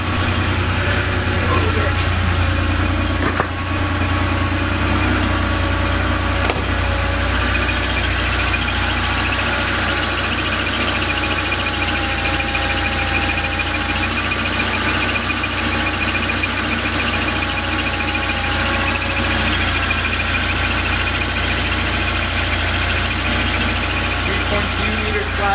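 A 1987 Porsche Carrera 3.2 engine idles steadily with a low, continuous rumble that holds up for the whole stretch, loud and close by, with a few brief knocks near the start.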